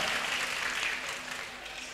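Loud, steady applause from a crowd at a weekly general assembly of the UFDG political party in Guinea, dense clapping sustained throughout without voices over it.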